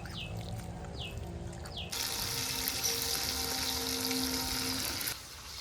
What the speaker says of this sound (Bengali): মাছগুলো এখন ভেজে নিচ্ছি